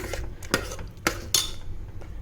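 A spoon stirs sarkarai pongal mixture in a pot, giving three sharp metallic clinks against the vessel over a faint steady background, with no voices.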